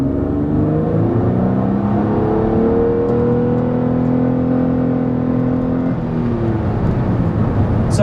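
A Nissan Maxima engine hums loudly from inside the cabin, its pitch climbing smoothly as it accelerates, then dropping briefly before rising again.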